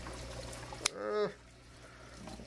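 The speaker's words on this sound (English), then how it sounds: "Let's get all the water out of the pump." Water drains out of an aquarium water changer pump: a sharp click, then a short gurgling pour that swells for about half a second and stops, leaving a low hum.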